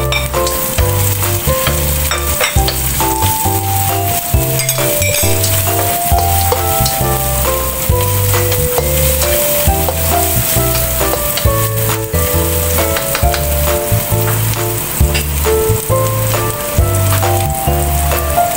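Onions and fish balls fry in a pan for flat noodles, a steady close sizzle that runs throughout beneath loud rhythmic background music with a pulsing bass line.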